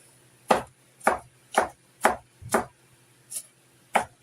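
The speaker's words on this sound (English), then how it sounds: "And what you do is you just start chopping." A knife chops a tomato steadily on a cutting board, about seven distinct thuds in an even rhythm, close and clear.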